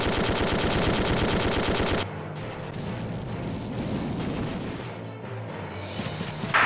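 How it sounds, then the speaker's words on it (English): Rapid machine gun fire from the video game Valkyria Chronicles 2, a dense, loud burst of repeated shots that cuts out abruptly about two seconds in, followed by a lower rumbling battlefield din. "do you have enough to gun this guy down? No, it's gonna take 25 shots."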